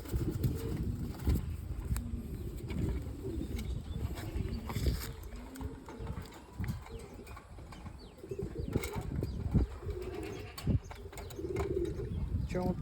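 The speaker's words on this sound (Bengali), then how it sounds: "চমৎকার একটা কবুতর" Pigeons cooing and shuffling close by, a young bird still in its juvenile feathers among them, with a low steady rumble of coos and occasional wing flutters throughout.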